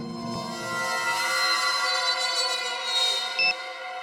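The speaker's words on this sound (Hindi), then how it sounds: "कहीं धीमी आवाज में तो नहीं बजा अलार्म?" An alarm clock, found under a bed during a crime-drama investigation, rings with a steady electronic buzzing tone that holds for about four seconds at moderate volume, with no talk over it.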